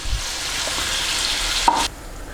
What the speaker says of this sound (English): so that's our second batch of bacon in the pan